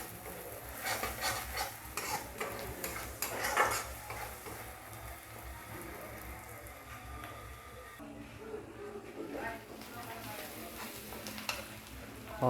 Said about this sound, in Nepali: यो मसला चाहिँ लगभग अब भुटिँदै गइरहेको छ